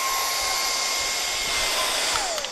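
A Kyvol cordless vacuum cleaner runs with a steady, loud whirring hum and a faint high whine, holding level throughout with no talking.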